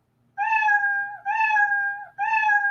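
Three drawn-out, tonal cartoon-style meows in quick succession, loud and close, with brief gaps between them.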